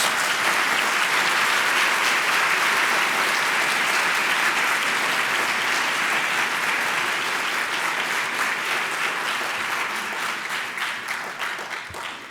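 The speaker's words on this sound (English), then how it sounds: "why don't we give our panelists a round of applause" Sustained applause from an audience at a panel discussion for the panelists, dense and even clapping that holds steady for several seconds before gradually thinning and fading toward the end.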